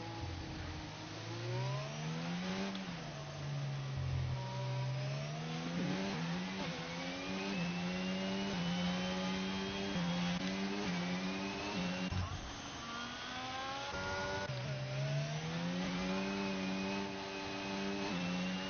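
Racing game cars at close quarters, one engine repeatedly revving up and shifting in rising sweeps while a second car's note weaves alongside as it goes around, steady and prominent without voices.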